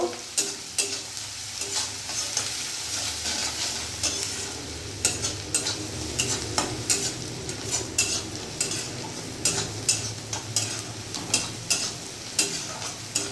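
Onions frying in a pan while being stirred for a spicy fish curry: a steady soft sizzle under repeated scraping stir strokes, close and moderately quiet, with no talking.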